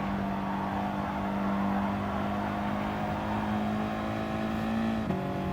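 An Audi TT Cup Gr.4 race car in Gran Turismo Sport laps the Alsace circuit, its engine holding a steady, sustained drone with a sharp shift in tone near the end.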